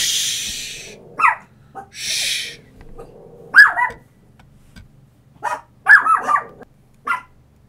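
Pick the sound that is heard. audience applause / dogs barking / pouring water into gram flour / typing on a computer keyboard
dogs barking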